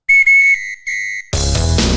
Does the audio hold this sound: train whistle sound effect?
yes